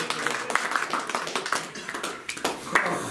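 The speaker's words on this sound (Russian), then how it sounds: "Давай, аплодисменты." Audience applause at a church gathering, a dense patter of many hands clapping steadily throughout, moderately loud with no talk over it.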